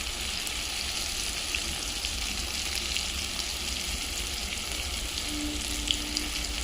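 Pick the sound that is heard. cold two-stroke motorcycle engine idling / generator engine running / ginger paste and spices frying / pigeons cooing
ginger paste and spices frying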